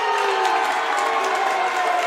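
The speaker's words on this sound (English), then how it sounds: "A little Bronx cheer by the Archbold faithful." Archbold home fans at a girls high school basketball game let out a steady, sustained crowd roar of jeers and cheers, dense and continuous throughout with no break.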